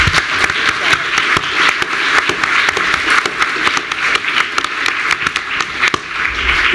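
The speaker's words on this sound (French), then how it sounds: "On va peut-être les applaudir." A conference audience applauds the speakers at the end of an inaugural lecture, a dense, steady, fairly loud clatter of many hands that lasts throughout.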